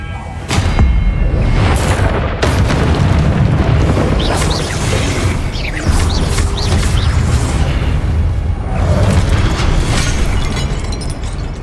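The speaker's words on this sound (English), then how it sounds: "Expelliarmus!" Loud booming magical spell blasts and bursts from Hogwarts Legacy on PS5, a dense run of explosive impacts with rumbling low end filling the whole stretch, with no talk.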